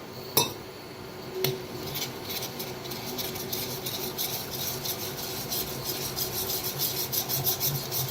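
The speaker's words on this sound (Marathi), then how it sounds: "तर थोडं थोडं पाणी ओतून ना बेसनला मिक्स करून घेऊया।" A spoon scrapes and rasps against a pot as gram flour (besan) is mixed with water into a batter, with a couple of sharp metallic knocks early on, then continuous rhythmic scraping, close and fairly quiet.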